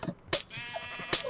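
A sheep in the video game Minecraft gives two short, sharp bleats, close and clear, with a faint game background between the calls.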